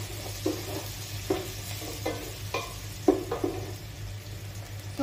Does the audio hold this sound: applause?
no